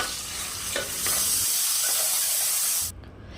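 Tomato paste made from two medium tomatoes fries with chillies in a pan for a mutton paya curry, giving a loud, steady sizzle and hiss with stirring scrapes, then dropping sharply near the end.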